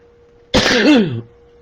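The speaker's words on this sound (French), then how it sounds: "Voilà, j'ai éternué." A single sudden sneeze from a woman indoors, loud and close, a sharp burst trailing into a voiced tail, with quiet before and after.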